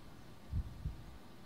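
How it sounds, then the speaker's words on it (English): A single low lub-dub heartbeat pulses from the Sorcery 2 video game, two soft muffled thumps in quick succession over a quiet, faintly humming background, with no voices present. "hearing a heartbeat"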